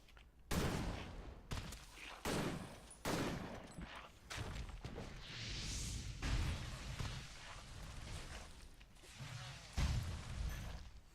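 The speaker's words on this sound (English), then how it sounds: "Now he's going to get hit by the explosion" Explosions and combat blasts in the Victor Vran action game, including a TNT blast: a dense run of loud booms, pops and bursts repeating every second or so over a constant rumbling battle din, with no speech.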